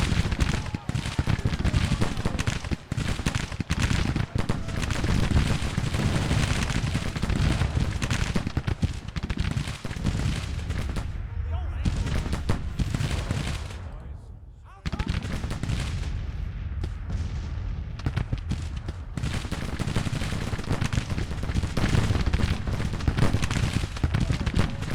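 Civil War battle gunfire in the strategy game Grand Tactician, a dense continuous roar of massed musket volleys and artillery rumble lasting throughout, briefly thinning near the middle before swelling again.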